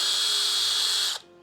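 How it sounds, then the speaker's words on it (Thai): A power drill with a masonry bit bores into a concrete wall, a loud steady high whine holding for over a second, then cutting off abruptly. "ปกติผมก็จะเจาะนำโดยใช้ดอกสว่านเจาะปูนเบอร์4หรือ5ก่อนนะครับผมแล้วเราค่อยใช้ดอกสว่านเบอร์7นะครับ"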